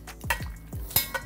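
Grilled asparagus with lemon, lime, salt and pepper is tossed in a cast iron pan, a few quick scrapes and knocks over a faint sizzle, close and brief, with no talking.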